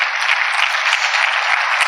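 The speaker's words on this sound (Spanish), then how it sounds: "dele un fuerte aplauso al Señor" Brisk congregational clapping fills a church, a short, bright burst of dense applause, loud and even throughout, with no low end beneath it.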